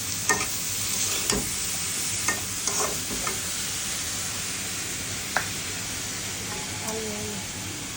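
Shredded cabbage and onion with potato fry in a pan, a steady hiss of sizzling broken by scattered scrapes and knocks of stirring.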